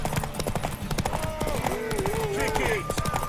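Horse hooves clip-clopping at a run in The Witcher 3 on PS5, a steady rhythmic beat set among game music and voices, with a brief whinny-like cry partway through.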